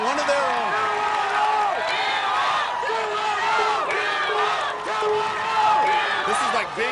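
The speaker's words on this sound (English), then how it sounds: "this crowd has the 210 duo chant going for one of their own" Crowd at an American Ninja Warrior qualifier in San Antonio chanting "210" for a local competitor, loud rhythmic voices rising and falling in repeated calls, with cheers and whoops mixed throughout.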